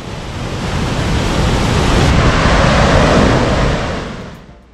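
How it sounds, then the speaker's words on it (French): Dettifoss waterfall in Iceland roars with a dense, continuous broadband rush that swells and holds steady, loud and close, with no voices over it. "la fureur assourdissante de la cascade qui y suit"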